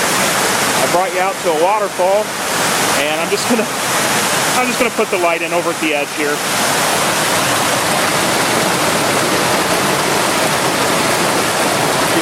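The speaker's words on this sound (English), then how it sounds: "I brought you out to a waterfall" A waterfall roars in a constant broadband rush close by, with someone talking over it for the first several seconds before the falling water carries on alone.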